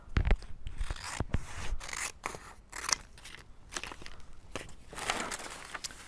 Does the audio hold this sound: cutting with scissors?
yes